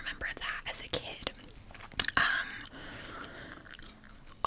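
Wet gum chewing sounds close to the mic, soft smacking and clicks repeating irregularly under quiet whispered talk, with one sharper snap midway.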